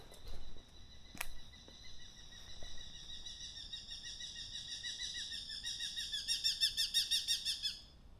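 An unidentified early-morning songbird calls repeatedly outdoors, a run of clear, high, evenly paced notes that grow louder and quicker toward the end, after a brief sharp chirp near the start.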